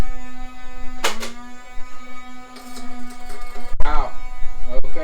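A Go Play Rapid Round toy blaster with spinning flywheels whirs in a steady motor hum, broken by two sharp bursts as waffle darts are fired, close and loud.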